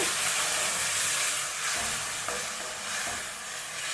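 Tamarind juice, about half a lemon's worth, boils in a pan for temple-style tamarind rice (huli anna), giving a steady close hiss and soft bubbling with no talk.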